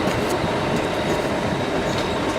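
A South Western Railway train pulling out of London Waterloo station, a steady rumbling roar of wheels on rails with faint squeals, continuous and fairly close, with no voices.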